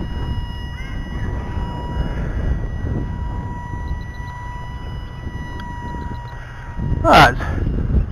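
A micro RC Great Planes F-86 jet, hand-launched without wheels, flies at a distance, its faint steady electric whine running under broadband outdoor noise, with a louder burst of wind near the end.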